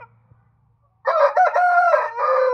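A 3.5 kg young rooster of an Asil-type cross, kept for fighting or breeding, crows once loudly and close by after a second of near silence. The crow is a long, drawn-out call with no talk over it.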